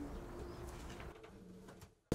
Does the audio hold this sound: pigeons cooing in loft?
yes